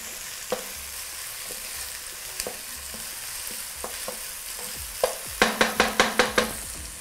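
Onion and garlic fry in a pot with a constant soft sizzle while a spoon scrapes and knocks now and then, ending in a quick burst of rhythmic stirring strokes, close and without speech.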